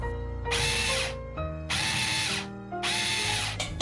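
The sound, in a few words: high-speed blender grinding green peppers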